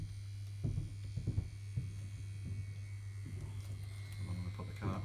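KillerBee tattoo machine running after a service, giving a steady low electric buzz with a faint rattling noise, fairly quiet and continuous.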